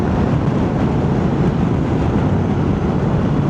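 A 2025 Honda Transalp 750 motorcycle rolls along with the throttle off, giving a steady, loud broadband rumble of wind and road noise with a low drone underneath, unbroken from start to end.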